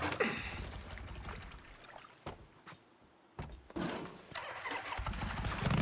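A motorcycle engine starts up in the video game Days Gone after an engine upgrade: bursts of cranking and revving, a brief lull in the middle, then a louder, sustained engine roar close by.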